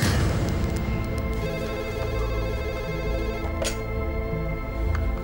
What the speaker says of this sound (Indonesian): Aku coba telepon rumah.